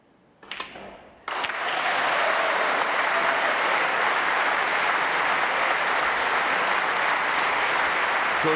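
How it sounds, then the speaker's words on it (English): A snooker audience at the 2015 UK Championship quarter-final breaks into loud, sustained applause. It begins with a few early claps, then swells into a dense, even roar of clapping that continues to the end. "big round of applause from the other side of the table"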